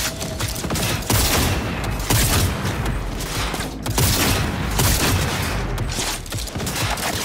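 Loud, continuous gunfire rattles through a firefight in the video game Cyberpunk 2077, overlapping shots and heavy booms packed together with hardly any pause.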